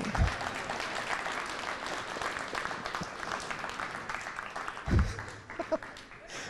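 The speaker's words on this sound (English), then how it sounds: "A round of applause." A crowd at an elementary school red carpet celebration claps in a loose, moderately loud burst. A couple of low thumps land near the start and midway, and the clapping thins out toward the end.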